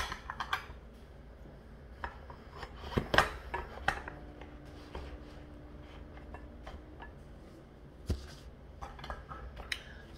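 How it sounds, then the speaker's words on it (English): Dishes being washed: ceramic bowls and cutlery clink and clatter in scattered bursts, close and fairly quiet, with pauses between knocks and a soft background hum. "I got some dishes to wash real quick."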